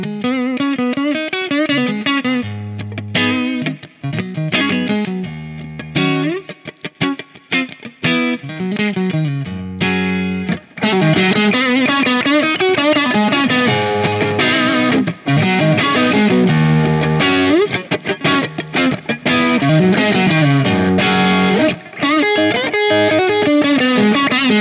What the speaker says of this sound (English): I'm going to be using the Doppler faux spring reverb and the BB preamp from Exotic to do that.